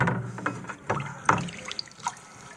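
A ladle dips and scoops liquid wort while brewing beer: several short splashy pours and drips spaced unevenly, close and moderately loud, with no talking.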